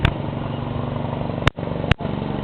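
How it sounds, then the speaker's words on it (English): A riding lawn mower's engine runs steadily nearby, a rough pulsing mid-range drone that holds constant, interrupted by two sharp clicks or knocks. "what I'm doing today is recording an old man on a lawnmower"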